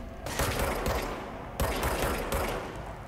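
Enemy weapons in a video game fire rapid bursts of automatic gunfire, two sustained loud volleys separated by a brief pause.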